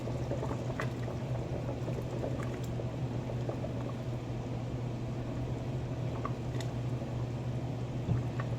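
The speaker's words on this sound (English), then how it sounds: "Let that simmer for another 10 minutes." Egusi soup simmering in a pot for a low-carb egusi dish, a steady low bubbling hum with faint scattered pops, continuous and close, no talking.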